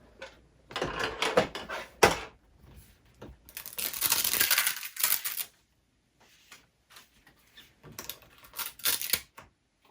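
A craft cutting machine unloads its cutting mat with close mechanical whirring and rolling, broken by clicks, a sharp knock and quiet gaps, with no talking.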